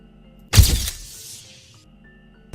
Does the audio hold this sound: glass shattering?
yes